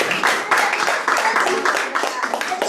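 A church congregation clapping together during a worship service, a dense run of applause at close range, mixed with voices talking and calling out over it.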